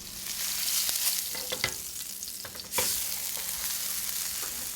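Floured pot roast browning in a hot pan, a steady close sizzle and crackle with a few sharper pops and stirring scrapes, no talking.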